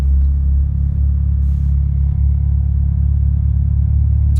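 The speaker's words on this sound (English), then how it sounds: "Idle's pretty nice and mellow, very stable at about 1100 RPM, probably about 1050" Mitsubishi Evo IX SE engine idling steadily at around 1,050–1,100 RPM while warming up, a smooth, mellow low rumble heard close and continuous with no voices.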